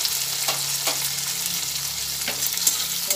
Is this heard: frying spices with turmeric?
yes